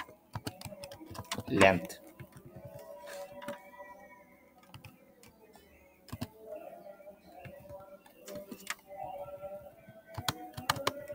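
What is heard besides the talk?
typing code on a computer keyboard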